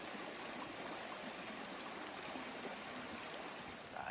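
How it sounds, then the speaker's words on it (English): A stream runs along a hiking trail, giving a steady, even rush of water that stays faint and constant throughout, with no voices. "Wow, we actually have some running water today."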